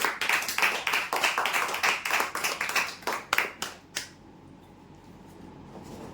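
An audience claps loudly for a tea-table winner at a prize draw, a dense run of sharp claps that thins into a few scattered final claps and then fades to quiet room tone.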